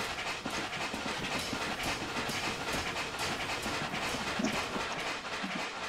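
Continuous hissing steam with rapid chuffing pulses from an A4 steam locomotive, 4464 Bittern, doing a cylinder steam burst in Train Simulator 2020, steady and moderately loud throughout.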